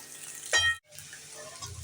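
Vegetables, radish among them, frying in oil in a pan over a high gas flame, a steady close sizzle with a brief stirring burst partway through.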